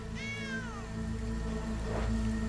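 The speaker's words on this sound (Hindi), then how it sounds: "अरे ये तो छोटी सी बिल्ली है।" A single clear cat meow, short and high-pitched, over a low steady background hum.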